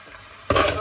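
Funchoza glass noodles hit a pan of frying carrots, a sudden loud sizzle bursting in after a quiet start and continuing with stirring noise.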